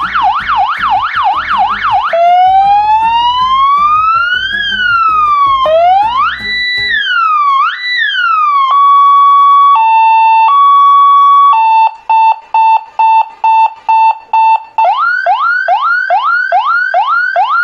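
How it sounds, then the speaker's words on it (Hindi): A 12 V seven-tone electronic siren cycles through its patterns, starting with fast yelps, then a slow wail, quick whoops, steady two-tone hi-lo beeps, short chirps and rapid rising whoops, all loud and close. "ये सायरन।"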